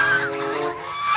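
One loud, nasal goose honk, close and harmonic-rich, lasting about a second with no talk over it.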